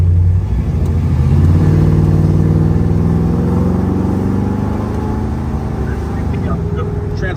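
A muscle car drives along with a loud, continuous engine drone that rises and falls as the transmission shifts, close to the listener.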